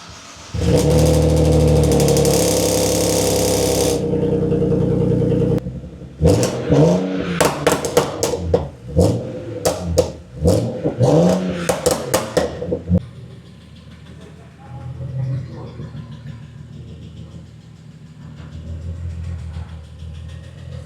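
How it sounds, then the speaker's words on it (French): A BMW 335 engine with a newly fitted exhaust silencer holds a steady loud drone, then blips through a rapid series of sharp revs before dropping to a low, quiet idle. "ça tourne rond, ça fait un joli petit bruit avec le nouveau silencieux"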